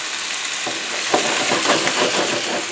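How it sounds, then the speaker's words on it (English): Bacon frying on a griddle, a steady dense sizzle with crackling pops that thickens after the first second, loud and close with no voices. "We got some bacon going."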